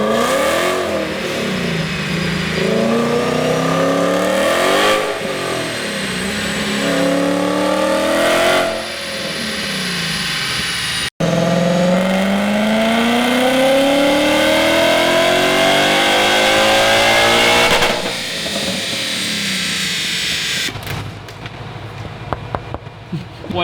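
A Mustang GT's Coyote V8, making about 695 wheel horsepower, revs hard on a dyno toward 7,200 RPM, a loud, near, continuous roar that sweeps up in pitch across two long pulls before dropping off.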